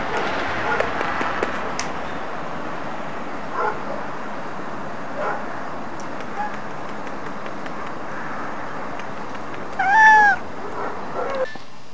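A cat gives one short, clear meow near the end, rising then falling. It is heard outdoors in a garden over steady, noisy background ambience.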